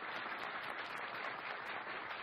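A studio audience at a Spanish TV game show claps steadily, dense applause that stays even throughout, with no voices above it.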